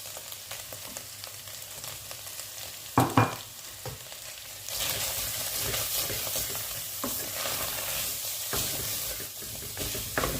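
Lamb fries in a pan while spices are stirred in, a steady sizzle with a few sharp scraping knocks of the utensil and the frying growing louder partway through.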